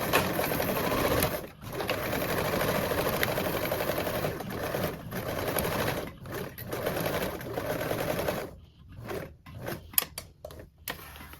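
A sewing machine bastes two fabric pieces together with a narrow seam allowance, running in a steady close whir that stops briefly a few times, then ends in short stop-start bursts.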